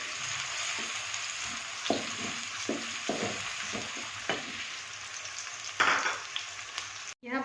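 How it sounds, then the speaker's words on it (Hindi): Onions fry in a pan for a cauliflower and peas curry, a steady close sizzle punctuated by repeated scraping stirs of a spatula, with no talking. "यहाँ पर अभी हमारा जो प्याज है इसको हम फ्राई कर रहे हैं।"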